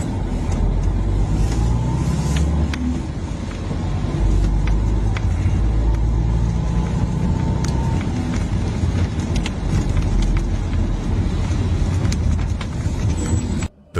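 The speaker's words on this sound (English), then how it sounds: "a taxi driver was cruising the streets late at night" A taxi drives through city streets at night, giving a constant close rumble of engine and road noise with a few faint clicks.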